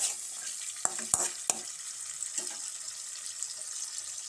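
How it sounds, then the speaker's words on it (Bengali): Chickpeas fry in a pan with a steady, crackling sizzle throughout, and a few sharp clicks and knocks of stirring come early on. "ছোলা ভাজার পর্ব চলছে আওয়াজ শুনতে পাচ্ছেন"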